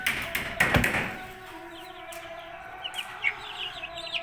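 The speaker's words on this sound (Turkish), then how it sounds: "Bu et civcivlerim bunlar." Meat chicks and ornamental hens in a hobby poultry pen give soft, scattered clucks and chirps over a low steady background, with a brief thumping tap near the start.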